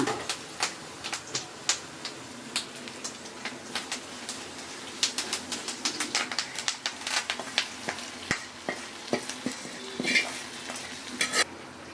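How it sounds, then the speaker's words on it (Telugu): A spoon stirs a sizzling tempering into katte pongal in a pot, with repeated sharp scraping clinks against the vessel in an irregular rhythm over a faint background, close and clear. "చక్కగా మన కట్టె పొంగల్లో తాలింపుని కలిపేసుకొని"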